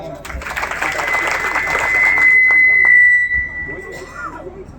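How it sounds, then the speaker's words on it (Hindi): Audience applause at a Lohar community gathering, a loud, fairly dense burst of clapping that swells and then tapers, with a steady electronic tone ringing through the middle and voices mixed in. "एक बार जोरदार तालियां"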